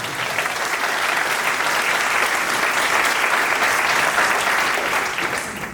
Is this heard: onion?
no